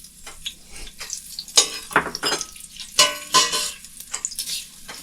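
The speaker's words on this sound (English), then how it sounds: "Before the oil gets hot, you can put the star spice in. And can add the ginger" Star anise and ginger sizzle in hot oil in a wok, a loud crackling fry with bursts of spatter and a few clinks of a utensil stirring through the pan, no voices.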